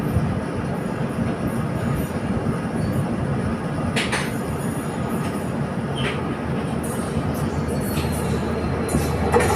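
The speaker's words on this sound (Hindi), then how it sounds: "सामने से आ रही है दिल्ली का WDP 4D के साथ जयनगर अमृतसर क्लोन हमसफ़र एक्सप्रेस" A WDP 4D diesel locomotive hauls the Jaynagar–Amritsar Clone Humsafar Express past, a continuous loud rumble of rolling wagons with rhythmic wheel clatter and occasional squeal throughout.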